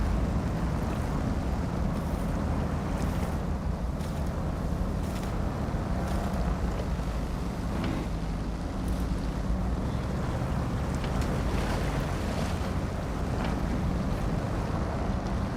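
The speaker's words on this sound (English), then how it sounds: "Why don't we do the river crossing with the trailer?" A truck towing a trailer pushes through a river crossing in SnowRunner on hard mode, a steady, dense wash of rushing water and engine rumble that runs continuously without a break.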